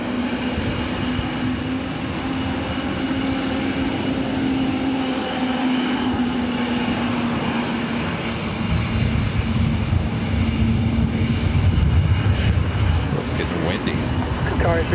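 At Los Angeles International Airport, a jet taxiing nearby gives a loud, steady engine drone with a sustained hum that swells louder near the end, while a voice talks over it.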